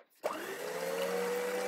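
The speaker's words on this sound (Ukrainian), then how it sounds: "2 білки помістіть у чашу блендера і починайте збивати." Electric blender starts up abruptly and runs at a steady high whine, loud and close, whipping two egg whites in its bowl for a cake recipe.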